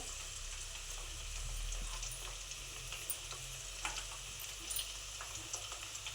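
Neem leaves frying in hot oil over a low flame, a steady soft sizzle with faint crackles and ticks throughout, close and alone.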